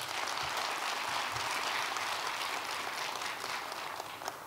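Sustained applause from an audience at a 20th-anniversary rally of a labor union's regional headquarters, dense and steady clapping filling the room for several seconds before easing slightly at the end.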